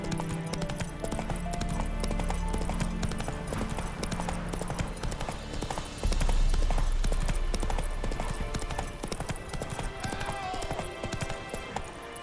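Roach, the horse in The Witcher 3: Wild Hunt, gallops with loud, steady rhythmic hoofbeats under a continuous game soundscape, with a brief snort or whinny.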